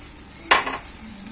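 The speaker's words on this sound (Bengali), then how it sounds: "তারপর এটাকে ভালো করে নেড়ে নেব।" Cauliflower frying in a pan gets a single quick stir, a short scraping burst over a low steady sizzle, close by with no talking.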